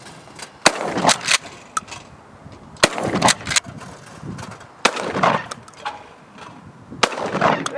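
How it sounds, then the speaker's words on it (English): Shotguns firing at clay targets at an outdoor youth shooting event, several loud sharp blasts spaced a second or more apart with brief rumbling tails, some shots nearer and some farther. "of course a shotgun is used to attempt to break them"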